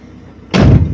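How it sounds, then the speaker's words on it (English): A 1966 Mopar car door slams shut once, a single loud, close thud after a quiet moment, its solid impact ringing briefly before fading. "What, the door's shut?"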